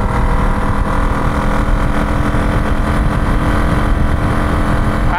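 A classic motorcycle engine runs steadily at close range, a loud continuous mechanical drone with even, fast pulsing and no pauses or speech.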